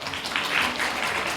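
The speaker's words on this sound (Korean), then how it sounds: "두 분께 다시 한번 큰 박수 부탁드립니다" Brief, steady applause from an audience, a dense wash of clapping hands lasting just over a second.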